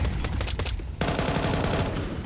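Desert Eagle shots ring out in a professional Counter-Strike match, mixed with rapid overlapping gunfire in a dense burst of repeated sharp cracks, with a brief dip before another volley.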